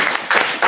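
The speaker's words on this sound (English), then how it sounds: "So we can have a round of applause for all of them." Applause at a school council general meeting, a short loud burst of clapping that comes in uneven surges, close and brief, with no talking over it.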